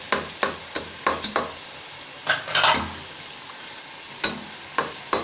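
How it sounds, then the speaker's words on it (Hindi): Masala spice paste frying for a chana dal with kulfa greens, heard as a low sizzle broken by sharp intermittent clinks and scrapes of a spoon against the pan, with no voices. "मसाला हमारा भून रहा है"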